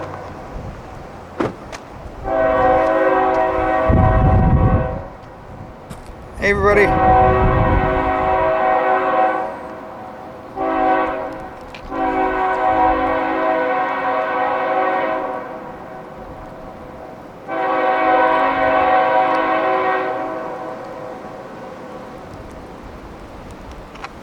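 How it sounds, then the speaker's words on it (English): A Norfolk Southern train horn sounds at a railroad crossing in high wind, with several long, loud blasts separated by gaps, a rumbling train and wind noise underneath, and someone briefly speaking. "that train horn you hear is a Norfolk Southern"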